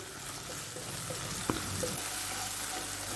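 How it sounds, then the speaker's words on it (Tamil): Finely chopped medium tomato sautés in hot oil in a pan, giving a steady close sizzle and frying hiss with a brief sharp clink of a utensil partway through. "இதையும் நல்லா வதக்கி விடுவோம்."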